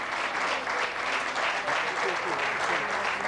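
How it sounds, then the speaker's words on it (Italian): Audience applause for the stage winner of the 2005 Giro d'Italia at Zoldo Alto, a steady dense clapping that fills the whole stretch at an even loudness with a voice heard faintly beneath it. "l'applauso adesso per Savoldelli"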